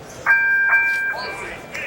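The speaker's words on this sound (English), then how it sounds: "So as they answer the bell for round 7" A boxing ring bell rings to start round 7 of a professional heavyweight fight, a few loud, close metallic tones that hold briefly and then fade into the arena's murmur.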